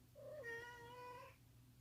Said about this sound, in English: Excuse my cat, y'all.